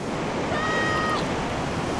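Strong ocean waves and current crashing along a rocky seal coast in high wind, a steady, dense roar of surf that fills the whole stretch without a break.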